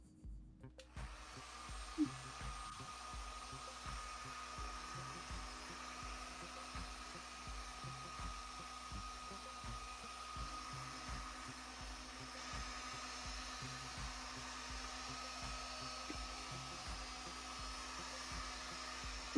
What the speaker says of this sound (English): I'm firing the heat gun up.